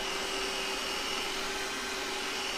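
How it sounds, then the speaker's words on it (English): Roborock S5 robotic vacuum cleaning a floor, heard close up as a steady, unbroken motor whine and airy suction hiss with a constant high tone and no talking. "So this is showing you how loud it is."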